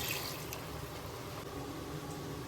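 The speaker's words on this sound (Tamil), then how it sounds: "தேவையான தண்ணி ஊற்றிக்கலாம்" Water pours into a pan of chicken kurma cooking with ground coconut paste, a soft continuous splashing and trickle close by, quiet and unbroken.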